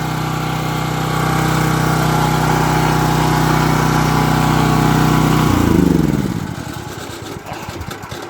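A loud propane generator runs steadily at close range, then winds down and sputters to a stop, leaving a quieter background.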